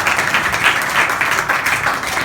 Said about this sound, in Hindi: आप सभी लोग बड़े अच्छे हो, एक और ताली बजाओ मुझे।